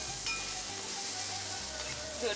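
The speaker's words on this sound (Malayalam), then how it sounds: "എടുത്തു വച്ചിരിക്കുന്ന വെളുത്തുള്ളി ഇട്ട് കൊടുക്കാം പച്ചമുളക് ചതച്ചത് ഇട്ട് കൊടുക്കാം" Garlic and crushed green chilli sauté in a pan for squid roast, a steady close hiss of frying oil with a low hum beneath, brief and without talk.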